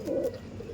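Andhra breed pigeons at a bird sale in Ranihati, a soft low cooing close by, brief and gentle with a short pause in the middle.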